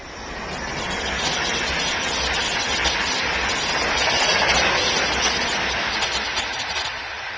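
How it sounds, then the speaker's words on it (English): A train rumbles past steadily and loudly in Cheshire, a broad continuous roar of wheels and engine that swells in the middle and eases off slightly toward the end. "Train coming. Just let this train go past."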